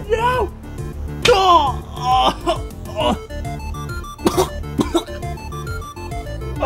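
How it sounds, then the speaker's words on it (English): Cartoonish coughing and throat sounds from a plush character in a comedy skit come in a few sharp bursts, mixed with animated voices speaking. "please don't start coughing up blood"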